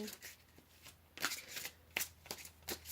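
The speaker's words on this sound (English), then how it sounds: "shuffle the rest of the cards out as we go" A deck of tarot cards is shuffled by hand in a steady run of soft riffling and slapping bursts. It is close and fairly quiet, with a low steady hum underneath.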